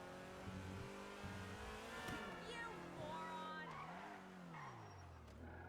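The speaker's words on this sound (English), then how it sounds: "I didn't realize how loud that little car was." A small car engine in GTA V Online revs and whines, pitch rising and falling as it accelerates, with a brief tire screech and game sounds layered over it.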